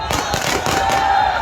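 Firecrackers burst at the Ramanagara Karaga festival, a rapid volley of loud, sharp cracks close by with a steady crackling roar underneath.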